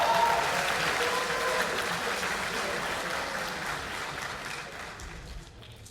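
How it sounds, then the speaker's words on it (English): An event crowd at the Socratica Symposium Fall 2023 gives presenter Chris a loud, dense round of applause that holds steady and then tapers off toward the close. "let's give him a big round of applause"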